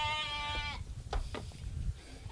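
A goat bleats once, close and clear, then a few soft rustles and low background noise follow on a country farm.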